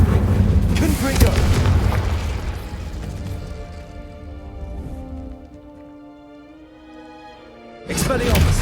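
A Confringo fire spell blast in the Hogwarts Legacy video game, a heavy booming explosion up front that rumbles and fades away, then a second sharp burst right at the end.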